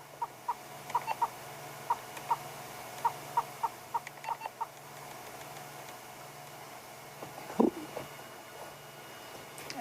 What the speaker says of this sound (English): the hornbill didn't take offense, and you can hear him calling